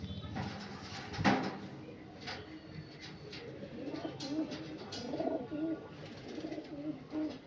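Malwai pigeons coo in a series of soft, throaty rolling calls, close by, with intermittent handling noises and brief voices around them.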